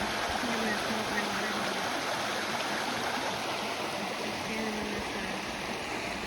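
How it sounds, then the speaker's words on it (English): Steady broadband rush of a stream flowing along Burns Run in a park, close by and continuous, with faint talk beneath it. "We're right next to the water."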